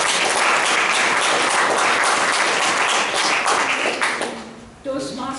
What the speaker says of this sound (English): let's give her a applause